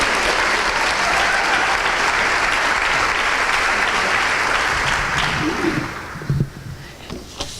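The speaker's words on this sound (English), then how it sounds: "Let's give Joan a big round of applause." An audience at a community volunteer awards ceremony applauds loudly and steadily, a dense wash of clapping that fades out near the end as a voice begins speaking.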